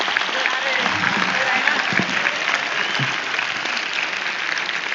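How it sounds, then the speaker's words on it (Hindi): A large crowd at a spiritual gathering applauds the farmers in dense, continuous clapping that stays loud and even throughout. "ये हमारे सारे किसानों को एक"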